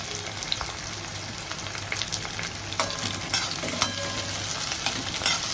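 Chopped onion sizzles and fries in a pan with pieces of red, green and yellow capsicum, a steady dense crackle with occasional stirring scrapes, close and continuous.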